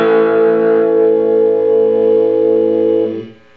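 A single chord on a Gibson ES-339 electric guitar with both humbucker pickups on, in stereo, rings out loud and sustained, thick with distortion and reverb, then cuts off after about three seconds.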